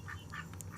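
Ducks kept on a home flock alongside egg-laying chickens quack in a short burst of a few nasal calls, close by and alone with no talk over them.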